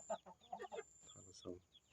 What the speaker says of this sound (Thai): ไก่เราก็หลาย